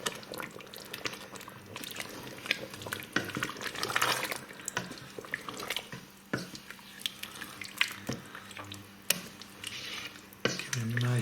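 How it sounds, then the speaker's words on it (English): Chicken karachi on the bone being stirred in a big pan, a steady wet scraping and sloshing with a soft sizzle underneath, continuous at moderate level with a few sharper knocks. "Just give that a stir now."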